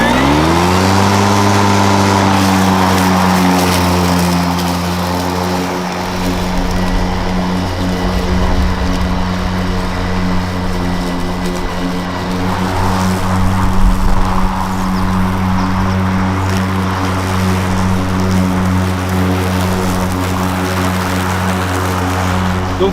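An EGO Z6 battery-powered ride-on lawn mower starts and runs, its electric motors spinning up with a rising whine and then holding a steady, loud, continuous hum with no talking.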